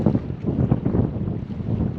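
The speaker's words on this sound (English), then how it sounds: "I think it's like 25-30 mile an hour winds right now." Strong, gusting wind of roughly 25 to 30 mph buffets the microphone while drifting downriver on a long solo river trip, a loud continuous low roar with rising and falling surges.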